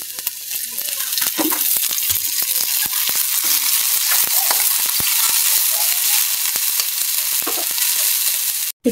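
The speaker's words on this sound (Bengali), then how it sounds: "শুটকিটি ভাজা আমার হয়ে গেছে" Dried mola fish frying in a little oil in a pan for a traditional Bangladeshi bottle-gourd-leaf mash, a steady close hiss of sizzling broken by scattered pops and crackles, no voices.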